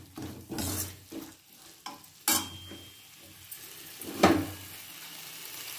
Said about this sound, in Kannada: ಇವಾಗ ನಾನು 1 ಸ್ಪೂನಷ್ಟು ಖಾರದ ಪುಡಿ ಹಾಕ್ಕೊಳ್ತೀನಿ.